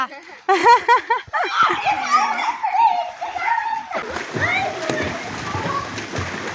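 Children jump into well water, making loud close splashes and sloshing, while young voices shout and chatter excitedly over the water throughout.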